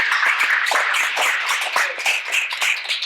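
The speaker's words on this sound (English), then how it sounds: "So, round of applause for all the speakers" Audience applause for the candidate speakers at a Clifton meet-the-candidates night, a modest crowd clapping in distinct patters at moderate level, fairly close and without talk.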